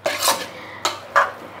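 Chicken is stirred into yogurt in a bowl while preparing biryani, with three scraping, clinking strokes of a spoon against the bowl, close and fairly loud with short pauses between them.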